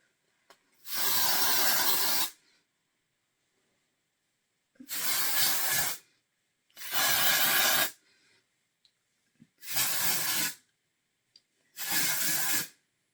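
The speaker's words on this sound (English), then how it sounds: "put a little bit of texture spray in around my rootage area" Five separate bursts of aerosol texture spray on hair roots, each a loud hiss lasting one to two seconds, separated by short silent pauses.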